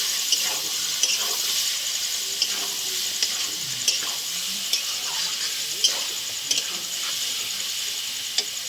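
Onion, ginger, garlic, green chilli and ground spices such as coriander powder sizzle steadily in a pan for a corn chicken dish, with the occasional scrape and clack of a stirring spoon, close and continuous throughout.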